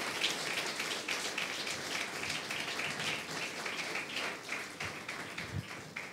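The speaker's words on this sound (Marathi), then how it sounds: "टाळ्या वाजूयात, प्रभूला धन्यवाद देऊयात." A church congregation claps together at a Sunday service, a dense, steady patter of many hands that continues evenly, fairly close, with no break for the whole stretch.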